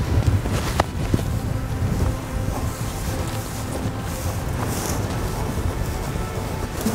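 Wind buffets the microphone out on open public land in Kansas during a deer hunt, a loud continuous rumble and roar that stays steady throughout with no talk.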